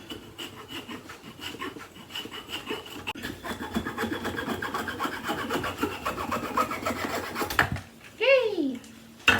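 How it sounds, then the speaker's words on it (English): Sandpaper rubbing the rough end of a turned wooden Christmas ornament into a point on a lathe, a steady close scratchy hiss with rising whine, ending with a brief bright squeal and a voice. "I'm going to sandpaper that rough little end into a point"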